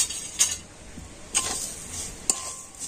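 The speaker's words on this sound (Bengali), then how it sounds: "তো এই সমস্ত দিয়ে তো কড়াতে কিন্তু খুব ভালো হবে, নাড়াচাড়া করে আমি একটু ফুটিয়ে নেব।" Sugar, coconut powder and a little salt are stirred in a wok over a quiet background, with three sharp metallic scrapes of the spoon spaced about a second apart and no voices.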